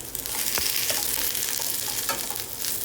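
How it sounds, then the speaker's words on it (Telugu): Okra and drumstick pieces fry in oil in a pan with a close, steady sizzle, broken by soft clicks and scrapes of stirring. "బెండకాయ ముక్కలు వేగాక 4-5 మునక్కాడ ముక్కలు వేయించుకుందాము."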